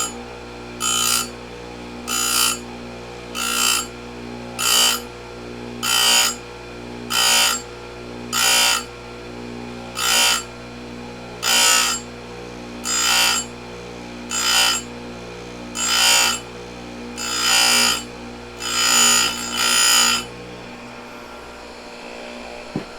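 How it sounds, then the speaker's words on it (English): Oregon 620-120 chain grinder grinding the teeth of an Oregon chainsaw chain, about fifteen short, even bursts of whining abrasive grinding at a regular pace, separated by a low steady motor hum. "When you're doing the left-hand teeth, you're grinding away."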